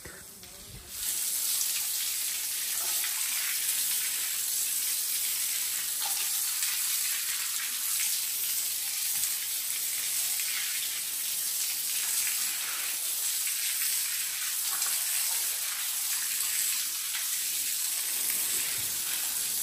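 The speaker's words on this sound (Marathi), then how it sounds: "पाणी कुठे जातो, जो हा आउटलेट गेलेला इथून डायरेक्ट आपल्या वाडीत" Water gushing out through an outlet channel in a rural Konkan village, a loud, steady hissing rush that starts abruptly and runs close and unbroken with no voices.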